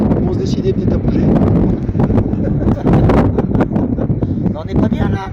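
Wind blows steadily outdoors in China while people wait for a taxi, a loud continuous rushing buffeting the microphone, with talk over it throughout.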